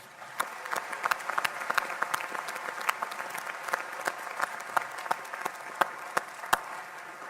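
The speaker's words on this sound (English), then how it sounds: "how about a final round of applause for all of our Distinguished Alumni Award winners?" Audience applause for the Distinguished Alumni Award winners at Florida Southern College's Founders Day Convocation: dense, sustained clapping from a large crowd, steady and even throughout, with a few sharper claps standing out and no voices over it.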